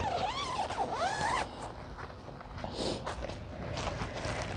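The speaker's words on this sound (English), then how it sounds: "you can see these zippers operate really nice and smoothly" Zippers on an Ayamaya instant pop-up tent slide open and closed, giving quick rasping zips close by, first a brisk run of rising and falling strokes, then softer fabric rustling and another zip.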